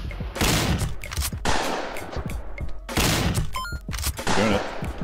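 Rapid bursts of cartoonish gunfire from a fart gun in the Kungfu Cowboy video game, loud and close, firing in several long volleys with short pauses between them.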